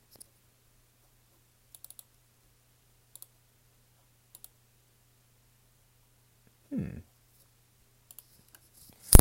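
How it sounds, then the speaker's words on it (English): Sparse, sharp computer mouse clicks, single and in pairs, spaced a second or two apart in a quiet room with a low steady hum, plus a brief voice-like sound near the end. "Can you hear the mouse clicking in the background?"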